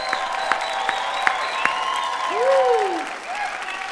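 A graduation ceremony audience applauds, with a crowd of steady claps and some cheering rising and falling in a large space while a voice speaks over it.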